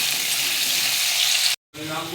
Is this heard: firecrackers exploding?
no